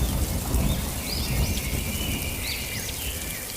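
Heavy rain hisses steadily in a cartoon storm scene, a dense continuous wash with low rumbling thunder underneath and a few faint bird chirps above, no voices.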